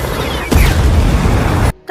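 An RPG rocket blast in a military action scene: a loud, dense roaring burst with a sharp whooshing onset that rumbles for over a second, then cuts off abruptly.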